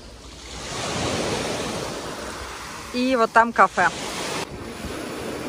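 Waves washing onto the beach at Karaburun near Izmir, a steady broadband wash with some wind noise, heard close and continuous while someone speaks briefly in the middle.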